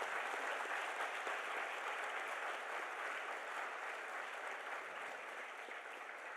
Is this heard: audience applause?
yes